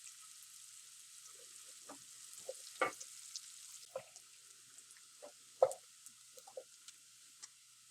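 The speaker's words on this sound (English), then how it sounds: "Fry the onion until it is glassy." Onion frying gently in a pan for beef stroganoff gives a faint, steady sizzle hiss, broken by scattered soft pops and crackles that come at an uneven pace.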